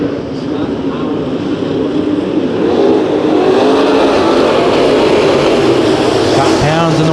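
Race cars roar around the track during a heat race at Santa Maria Raceway, with loud, steady engine noise throughout and a commentator's voice over it. Near the end one car passes close by with a rising whine.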